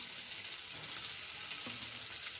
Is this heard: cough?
no